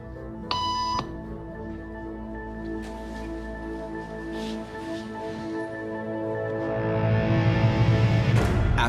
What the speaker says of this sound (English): After just 3 beeps